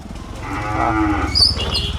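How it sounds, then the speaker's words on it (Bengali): A dairy cow at a cattle collection lets out a single long, loud, close moo with a rising nasal tone, heard alone without talk. "খুবই সুন্দর গাভীটা"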